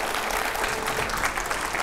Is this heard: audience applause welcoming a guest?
yes